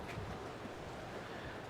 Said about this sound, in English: Oh look, the wind's back.